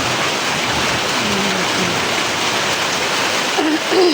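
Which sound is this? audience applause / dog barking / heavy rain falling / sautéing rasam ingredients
heavy rain falling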